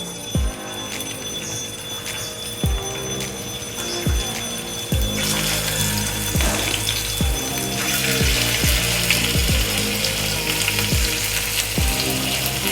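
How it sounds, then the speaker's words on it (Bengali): Fish fry one by one in hot oil, giving a loud, steady sizzle broken by a series of sharp clicks and pops at regular intervals. "এক একে মাছগুলো আমি ভেজে নিই"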